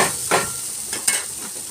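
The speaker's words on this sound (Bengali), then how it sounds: "ডাল মাখানোটা ঢেলে দিলাম দিয়ে ভালো করে নেড়ে ছেড়ে" Spoon stirring a poured mung dal mixture with vegetables in a hot pan, a few scraping strokes over a soft steady sizzle, close and brief with no voices.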